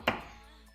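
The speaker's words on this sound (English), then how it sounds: "Don't look at the stream when you're chopping." A single sharp knife chop strikes a cutting board while cubing pork for a stir fry, a close, quick thud that fades away.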